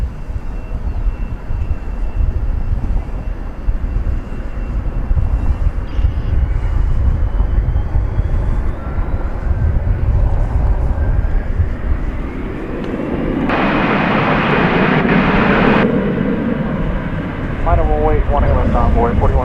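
Airliner taking off from runway 18 left at DFW Airport, a sustained jet engine roar building and rumbling at a distance, with radio and talk over it and a brief louder burst midway.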